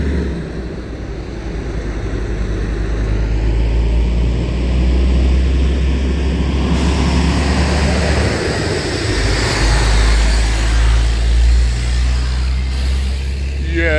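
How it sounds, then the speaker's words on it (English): Gravel truck passing on a road near gravel mines, a loud low rumbling engine roar that builds and holds as it goes by, with wind noise and a voice talking over it. "Got a gravel truck gonna come by here in a minute."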